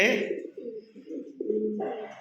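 An aggressive pigeon coos close by in a low, throaty run of rolling calls lasting the whole stretch, with a brief human voice at the very start.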